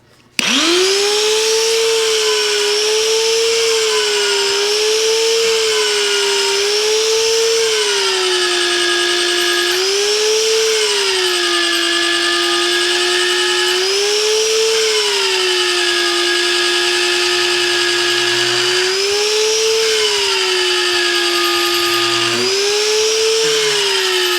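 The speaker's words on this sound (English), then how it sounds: "So we drilled 1, 2, 3, 4, 5 holes so far in a matter of minutes." A magnetic drill bores holes in the steel frame of a 4700 dump truck, a loud, close motor whine that sags and recovers rhythmically as the bit loads up, running continuously with no talk.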